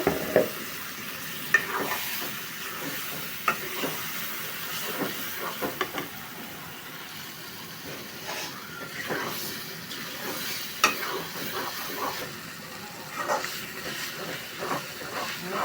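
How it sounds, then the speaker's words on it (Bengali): Goat meat fries in a pan while being stirred, giving a steady close sizzle broken by frequent scraping and clacking stirring strokes throughout, with no talking. "এখন আমি মাংস ছেড়ে দিব।"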